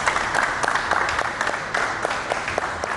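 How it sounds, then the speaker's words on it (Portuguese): Studio audience applauding on a Portuguese-language afternoon talk show as two guests are welcomed, a steady burst of clapping from a crowd that stays loud and even throughout. "Uma salva de palmas."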